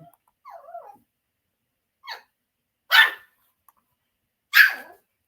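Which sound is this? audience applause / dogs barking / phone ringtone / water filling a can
dogs barking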